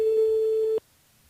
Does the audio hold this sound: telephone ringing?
yes